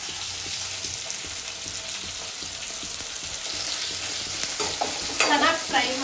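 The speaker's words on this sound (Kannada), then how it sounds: "ಸೊ ಇವಾಗ ಫ್ರೈ ಆಗ್ತಾ ಇದೆ" Onions, green chillies and tomatoes fry in a pan with a steady, fairly quiet sizzle and occasional stirring clicks, the sizzle swelling and crackling louder toward the end, with no voices.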